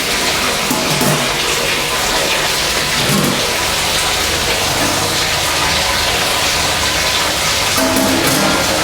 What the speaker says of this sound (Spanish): de esa olla pasa agua de 75 grados a esa olla, lavando nuestros granos